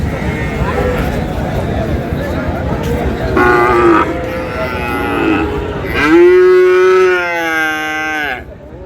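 A Sahiwal bull calf at a cattle market in Parbatipur, Dinajpur moos loudly in two long, harmonic calls, set against steady crowd noise and other livestock.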